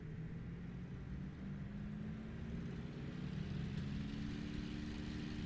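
A Supermarine Spitfire Mk V's piston engine runs up steadily at takeoff boost in Microsoft Flight Simulator, a continuous droning roar with a low, even hum and a slight swell in loudness, heard alone without voices.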